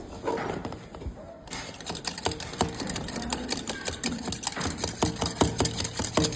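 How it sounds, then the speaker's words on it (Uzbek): A glass rod stirs a sodium nitrate solution inside a calorimeter, a close series of rapid, rhythmic clicking taps against the container that grows busier after the first second. "Buni o'zini maxsus tayoqchasi orqali aralashtiramiz."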